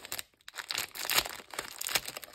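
Sponge packaging is handled and cut open with scissors, making close, sharp bursts of plastic crinkling and snipping in uneven spurts separated by brief pauses.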